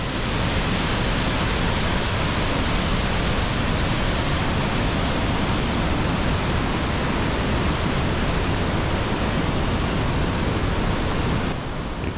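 A waterfall at High Falls Gorge roars steadily at close range from a viewing platform, a dense, unbroken wash of falling water that fills the whole scene without pause.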